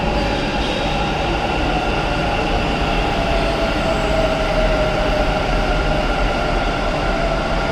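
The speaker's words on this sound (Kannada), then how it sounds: "ಇಲ್ಲಿ ಮೆಟ್ರೋ ಬಂತು ಗೈಸ್" A Bangalore metro train arrives at a station, a loud steady rumble of wheels and motors with tonal whine and faint squeal, continuous and near, with no talking.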